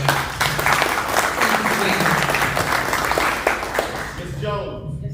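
Audience at a District 2 Westside community meeting gives staff members a round of applause, steady dense clapping from the room that tapers off near the end.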